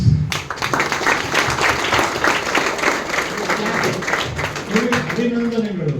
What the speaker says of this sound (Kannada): ಎಲ್ಲರೂ ಜೋರಾಗಿ ಚಪ್ಪಾಳೆ ಕೊಡ್ಬೇಕು